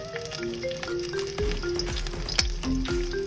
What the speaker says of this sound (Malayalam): സവാള ഫ്രൈ ചെയ്ത ആ ഓയിലിൽ തന്നെ 2 ഏലക്ക, 3-4 കറിയാമ്പൂ,